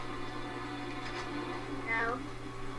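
A cat meows a couple of times, close by, over a low steady hum, with soft talking around it.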